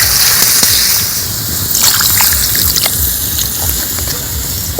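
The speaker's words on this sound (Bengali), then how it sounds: "এবার আমি এর উপরে জল দিয়ে দেবো" Water pours and sloshes into a pot of jackfruit, potato and lentil curry, a continuous close splashing gush with no talk over it.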